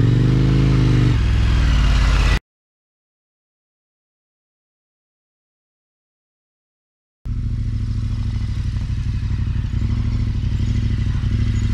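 A motorcycle fitted with Mitas E07 tyres brakes from 60 km/h on a very loose road, a loud engine drone with gravelly clatter, a silent gap, then the engine running again nearby.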